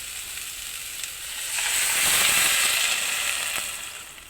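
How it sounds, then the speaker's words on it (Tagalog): Broth poured into a pan of vegetables with squash, bursting into a loud, bright sizzle that swells midway and then settles into a steady frying hiss. "Pwede na natin siya lagyan ng konting sabaw."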